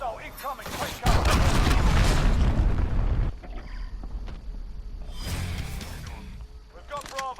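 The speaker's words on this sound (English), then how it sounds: "Enemy cruise missile incoming." An enemy cruise missile strikes during a multiplayer match in Call of Duty: Modern Warfare (2019), one heavy, roaring blast that rumbles for a couple of seconds and then fades to a low aftershock, with a voice briefly heard before and after.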